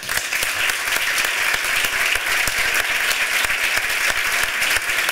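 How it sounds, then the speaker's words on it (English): Steady, dense applause from an audience greeting interview guests, continuous and fairly loud throughout with no talk. "we would like to greet you with a very big applause."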